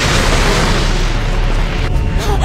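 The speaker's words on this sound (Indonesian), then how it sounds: "Lalu tiba-tiba terjadi sebuah ledakan." Explosion in the Naruto Shippuden anime, set in an underground chamber: a loud, sustained broadband roar of blast and rumble filling the whole clip without letup.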